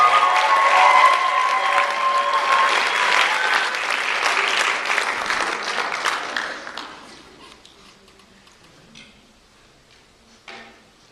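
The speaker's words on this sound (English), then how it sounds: "keep your applause going for Matt Sterling as he comes to the stage" Church conference audience applauding as a speaker walks onto the stage, loud sustained clapping from a large crowd that gradually fades away over several seconds, leaving near quiet with a small bump near the end.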